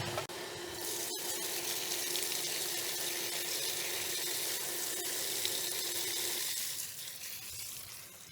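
Water gushes steadily from a Bestway Flowclear sand filter pump running in rinse position, a loud continuous rushing hiss with a brief knock near the start, easing off toward the end.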